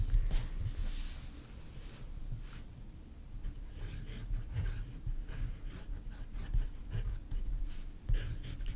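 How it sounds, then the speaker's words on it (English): A Franklin-Christoph 46 fountain pen with a broad cursive italic nib writing on paper, giving soft, close scratchy strokes in irregular bursts with short pauses, steady and quiet with no speech. "the first nib that I'm going to write and draw with for this comparison is a Franklin-Christoph 46"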